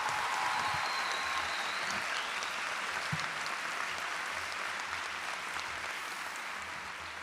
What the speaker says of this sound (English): Can I please get a round of applause for all of them?